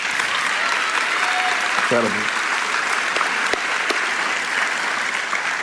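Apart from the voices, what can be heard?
church congregation applauding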